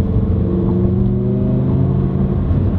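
A Lamborghini Huracan Performante engine drones steadily and loudly from inside the moving car, a smooth sustained hum without distinct pops or cracks.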